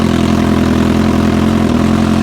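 Kawasaki H2 fitted with a titanium exhaust idling right at the tailpipe, a loud, steady, deep rumble with strong low harmonics that holds evenly throughout without revving.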